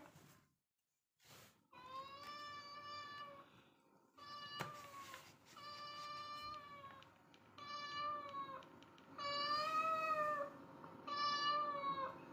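A cat meows repeatedly up close, a series of drawn-out, whiny cries with short pauses between them, no voices present.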